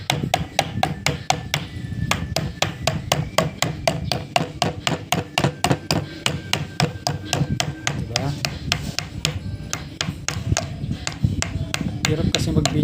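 Rapid, steady pounding with a plastic handle punches holes in a homemade gasket, the sharp hammer-like taps repeating in a fast, even rhythm throughout at close range.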